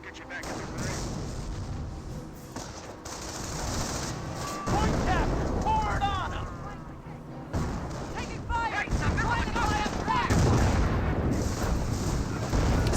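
Artillery and gunshots crackle through a Company of Heroes 1 match between M10 tank destroyers and a Greyhound, a steady dense din of distant blasts and shots with a commentator talking over it.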